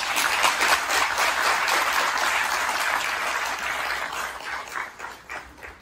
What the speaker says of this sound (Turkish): Onlara yüksek bir alkış.